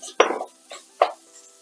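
Andouille sausage is tossed into a hot pot for chicken, shrimp and sausage gumbo, giving three quick, close metallic clunks of differing strength against otherwise quiet surroundings.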